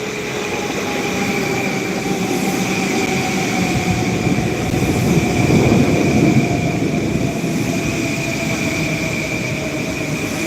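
A passenger train or subway car heard from inside as it rolls along, a steady rumbling drone with sustained whining tones, holding at an even level for the whole stretch and swelling slightly midway.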